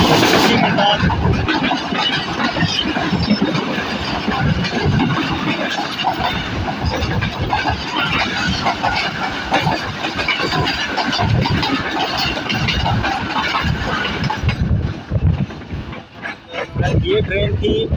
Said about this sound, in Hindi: ये ट्रेन थी कराची और लाहौर के दरमियान चलने वाली 37F फरीद एक्सप्रेस, जिसकी लीड पे लगा हुआ था GU20